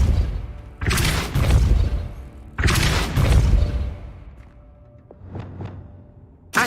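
Two loud, booming blasts from a Depulso spell cast in Hogwarts Legacy, each with a heavy thud and a rushing tail, followed by softer whooshes and a final sharp burst.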